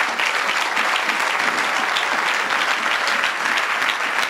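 A congregation at a night worship vigil applauds to acclaim the Lord, producing steady, dense clapping that fills the room at an even loudness without a break.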